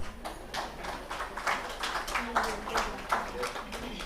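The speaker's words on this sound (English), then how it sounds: "Please welcome him with your round of claps." An audience at a sustainability education conference plenary session gives a round of applause, steady moderate clapping heard from a distance in a large hall.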